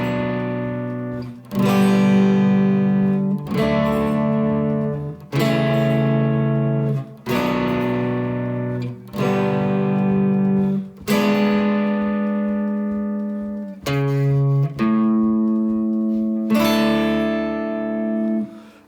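An electric guitar plays the bridge of a song in a string of distorted, sustained chords, each struck and left ringing for about two seconds before the next, clear and close with no talking.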